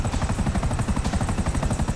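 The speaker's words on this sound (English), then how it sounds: "Gray, another chopper." A helicopter in the Grand Theft Auto 5 video game sounds its rotor as a loud, steady rapid chopping throb, close and continuous, with no talk over it.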